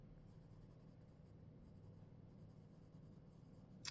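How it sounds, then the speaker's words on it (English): A pen scratches across paper in a quiet room, faint and close, with soft irregular strokes and one sharper scrape at the end. "I'll write it down"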